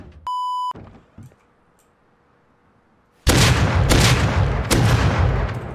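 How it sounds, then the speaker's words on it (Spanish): Double barrel shotgun fire in the video game Rust: a short electronic beep, a quiet pause, then loud booming blasts, with a second sharp shot following about a second and a half later. "¿Ha pegado tres tiros la DB?"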